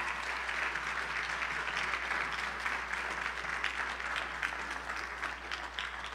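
A seated audience gives a sustained round of clapping for youth fine arts participants at a church gathering, steady and dense from start to finish with no voices rising above it.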